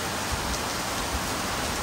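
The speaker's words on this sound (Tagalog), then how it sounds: "Hindi mo alam kung kailan bubuhos ang ulan." Steady rain pours down during a stormy morning, a dense, even hiss of drops drumming on surfaces, constant and fairly close with no voices.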